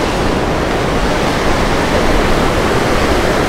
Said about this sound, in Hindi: ये देखिए इस साइड को ये नीचे बह रही है पार्वती नदी।